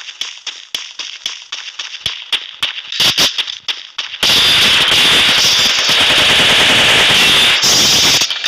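Gunfire in the mobile battle game Free Fire: a string of sharp single shots with short gaps, then a sudden dense burst of continuous automatic fire that keeps going to the end, loud and close, with no speech.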